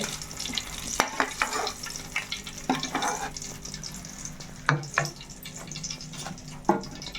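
Eggs frying in a home kitchen pan, a soft continuous sizzle with intermittent scraping and stirring clatter, close and fairly quiet, with no talking.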